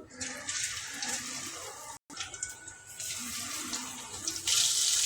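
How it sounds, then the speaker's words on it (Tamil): Anchovy pakoda fries in hot oil in a pan, producing a loud, continuous, hissing sizzle that drops out for an instant and then grows slightly brighter. "பொறிக்க எண்ணெய் நல்லா காஞ்சிடுச்சு மீனை சேர்த்துக்கலாம்"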